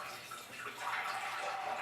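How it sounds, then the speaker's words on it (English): Water draining from a toilet tank into a pot, a steady close gush and splash lasting the whole short moment. "pull this down, and out comes the water"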